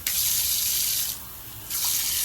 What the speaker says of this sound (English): they have these fresh water taps